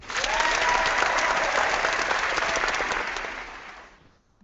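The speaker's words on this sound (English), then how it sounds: "I can give a clap for you guys" A canned applause effect plays during a Clash of Clans livestream, a dense, steady wash of crowd clapping lasting about four seconds before fading out.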